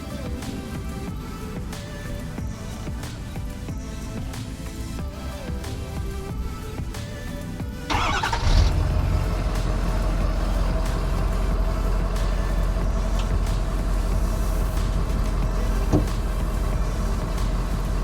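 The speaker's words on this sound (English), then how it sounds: "I'm gonna give you guys a cold start real quick" Quiet background, then the 6.7 Powerstroke diesel engine of a 2013 Ford F-350 pickup cranks and fires about halfway through on a cold start, settling into a steady, deep, rumbling idle close by.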